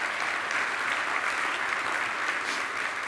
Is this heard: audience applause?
yes